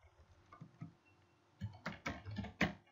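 Typing on a computer keyboard while coding an Ionic Angular app: sparse soft taps first, then a quicker burst of louder clicks, close by.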